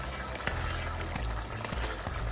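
Egg curry masala of ground spices, herbs and other ingredients bubbling and being stirred in a pan, giving a steady close sizzle and simmer with a few sharp scraping clicks, and no talking.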